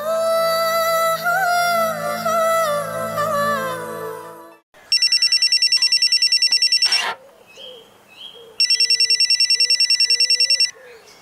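A telephone rings in two bursts of rapid electronic trilling with a gap between them, heard after a stretch of musical tones and with no one speaking over it.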